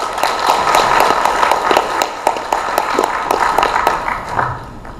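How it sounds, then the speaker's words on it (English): Forum audience applauding the speakers after a discussion session, a sustained wash of clapping with distinct individual claps punctuating it, fairly loud and close, tapering toward the end. "a big round of applause to our speakers"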